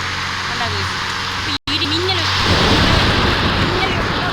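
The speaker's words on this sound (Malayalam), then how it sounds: "പകലാവൂല, രാത്രി തന്നെ മഴ പെയ്യും" Steady rain hiss in the game Indian Bike Driving, with a deep rumble building in the second half, rolling thunder under a faint tonal game effect; a brief dropout near the start.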